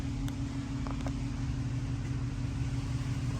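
A 2014 Dodge Challenger R/T engine, with a shift kit installed, holds at high revs while parked: a steady, loud mechanical drone with no clear rise or fall and no talking.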